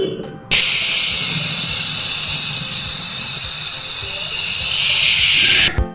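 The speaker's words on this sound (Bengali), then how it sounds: "এগুলোকে ভেজে নেব।" Chopped tomatoes frying in a pan for egg Maggi noodles: a loud, sudden steady hiss that begins as they hit the oil and holds for about five seconds before cutting off.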